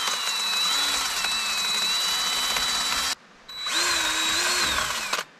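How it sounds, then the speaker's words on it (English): A power tool with a wire brush scrubs a brake spindle on a 1987 Toyota 4Runner, a high steady whine with a shifting pitch, cutting off briefly before a second run, close and loud with no talking. "you can take whatever you got for wire brush. You can brush it off"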